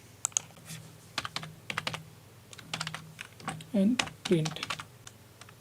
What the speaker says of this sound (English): So you just have to type this help